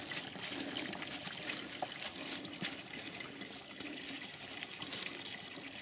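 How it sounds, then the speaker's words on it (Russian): Spring water runs from a pipe at a forest spring, a steady close trickle and splash that fills the whole clip with no talk over it. "Ну тут прям из трубы вода течет."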